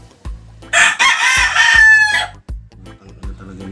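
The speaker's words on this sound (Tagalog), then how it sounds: "Itong manok na ito eh." A rooster crows once, loud and close, a long rising and falling cock-a-doodle-doo with soft thumps and handling noise around it.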